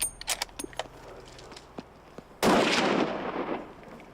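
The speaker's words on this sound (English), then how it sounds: "Jeff made a great shot on him." A single loud rifle shot fired at a bull during a hunt cracks out sharply at close range and decays into a long rolling echo, following quiet rustling and small clicks.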